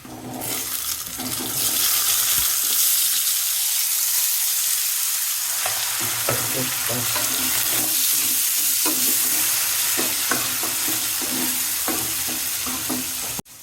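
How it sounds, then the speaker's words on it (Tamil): Tomatoes drop into a pan of frying ginger and garlic for homestyle chicken gravy, raising a loud, continuous sizzle with scattered stirring clicks and scrapes running throughout. "அடுத்து தக்காளி போட்டுடலாம் மக்கள்"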